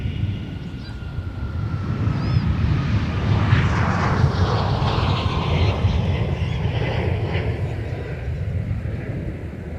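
Airliner taking off from runway 30 right at Minneapolis–St. Paul airport in the evening, a loud, steady broadband jet roar that holds strong and slowly swells and eases across the whole stretch, with wind buffeting and faint radio chatter beneath.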